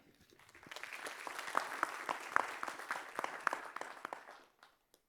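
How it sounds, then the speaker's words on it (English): Audience applause fills a conference theater session, a steady round of clapping that swells, holds for a few seconds, then tapers off near the end, with a few isolated claps trailing out. "one last round of applause"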